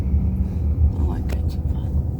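A car rolls along a road toward a park with a steady low engine and road rumble, while a voice talks over it.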